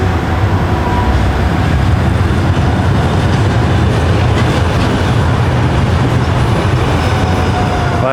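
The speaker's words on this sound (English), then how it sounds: "Vibration is the train going over the bridge." Steady, loud rumbling of a train rolling over a bridge, with a continuous low vibration and faint metallic clatter throughout.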